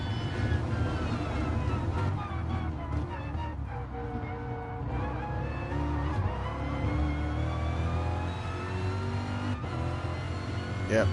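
Race cars from the GR1 and GR3 classes in a Le Mans endurance racing video game roar continuously, engines droning and shifting pitch as a car passes close by, loud and steady throughout.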